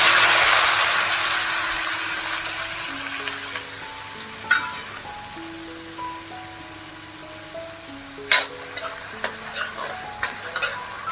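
Chopped onion fries in hot oil with mustard seeds and cumin for a spicy Kolhapuri misal, a loud sizzle that slowly fades, with occasional spoon scrapes and sharp crackles near the end.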